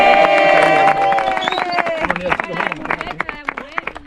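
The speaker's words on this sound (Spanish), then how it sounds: "un aplauso a los guías" A hiking group claps and cheers for their guides at the end of a trail near Marbella, close, lively applause with shouts and overlapping voices.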